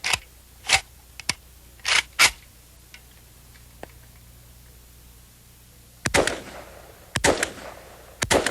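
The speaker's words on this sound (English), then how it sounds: "One pull of the trigger, you get one round. You get another round, you have to pull the trigger again." Semi-automatic firearm fired one trigger pull at a time: sharp, loud cracks arrive singly at irregular gaps, then a denser cluster of reports toward the end, with no talking.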